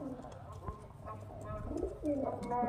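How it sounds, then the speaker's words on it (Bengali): Pigeons, Murshidabadi Giribaz breed, coo nearby in soft, throaty, repeated phrases that swell louder toward the end, with faint background noise. "এখানে দেখতে পাচ্ছেন একজোড়া মদন পায়রা আছে"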